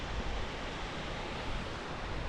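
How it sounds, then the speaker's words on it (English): Rain- and sleet-fed waterfalls spilling down a mountainside near Broken Hand Pass in the Crestones give a steady, dense broadband rush, close and unbroken, with no voices. "Check out these waterfalls."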